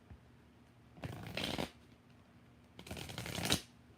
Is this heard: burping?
no